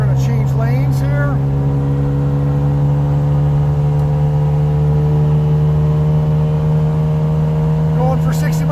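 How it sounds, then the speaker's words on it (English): A loud, steady drone from a two-stroke engine pulling through second and third gear, a sustained low buzz with strong harmonics and little change in pitch, close up and continuous throughout. "We got no tack, we got a two-stroke. Second gear, third gear."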